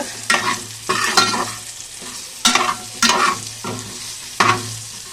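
Small bitter gourds frying in a pan, with a loud close sizzle and a rhythmic series of about seven stirring scrapes, each stroke swelling and fading.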